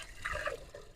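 Water pours from a glass into a pot of khichdi cooking outdoors on a farm, a brief close liquid splash and gurgle lasting about a second.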